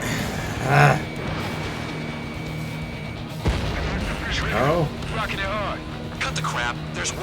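Missiles and explosions in the Ace Combat 7 jet combat game: loud booming blasts and rushing missile sounds, with a radio voice talking over the action.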